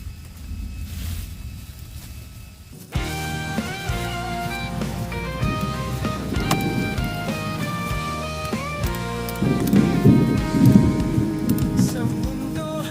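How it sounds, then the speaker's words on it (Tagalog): Thunder rumbles and rain sweeps in, a steady hiss that grows heavier and louder over a low, rolling background. "Habang lumalakas ang kulog, papalapit na palapit din ang ulan."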